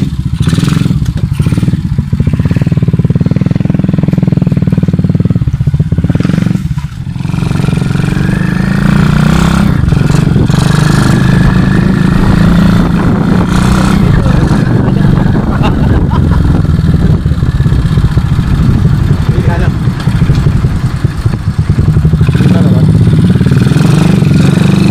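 Honda XRM 110 motorcycle on a test ride with a universal speedometer fitted, its small engine running steadily and loud throughout with low rumble and road noise, a brief dip near the start.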